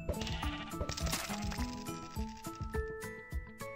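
Sheep bleating in Minecraft, several overlapping bleats over a few seconds with game chimes and clinks mixed in, fairly close and clear with no talk.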